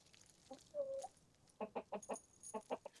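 Chickens cluck in a quick series of short, clipped notes, with one longer drawn-out call early on; faint and somewhat distant, no voices.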